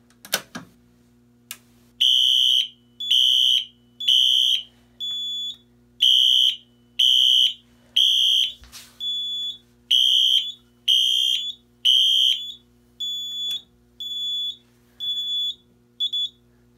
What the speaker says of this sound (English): up here we have my Wheelock NS set on code 3, low volume